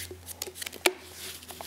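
A deck of playing cards being shuffled during a close-up card magic routine: soft, faint riffling and papery bursts with one sharper snap near the middle, and no voices.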